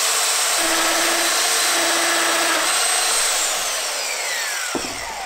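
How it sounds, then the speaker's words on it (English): A Festool Domino joiner whines loudly up close as it cuts a mortise into a wooden stair spindle, then winds down near the end, with no talking. "grab my Festool domino"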